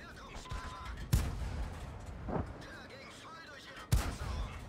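A Type 64 light tank fires its cannon in a tank video game on the Malinovka map, with two loud, sharp blasts about 2.8 seconds apart and a softer thud between them, set over steady battle noise.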